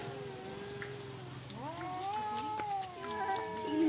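A cat meows in long, drawn-out wavering cries, close by and fairly loud, with faint background sounds between the calls.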